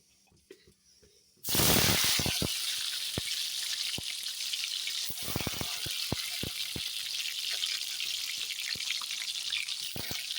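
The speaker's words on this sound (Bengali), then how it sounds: "আমি এখন ভাজাটা বসিয়ে দিই মানে উচ্ছে ভাজাটা করে নিই" Bitter gourd slices dropped into hot oil in a wok, starting with a sudden loud burst of sizzling that settles into a steady close crackle with sharp pops and utensil clicks, no talking.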